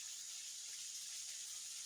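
Weak trickle of water at a small waterfall, a steady soft hiss of flowing water that stays faint and even throughout, with no voices.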